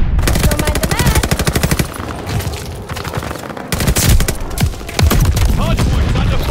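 Rapid automatic gunfire from Call of Duty Vanguard online multiplayer, loud and nearly continuous with brief pauses, dense bursts layered with game voice callouts.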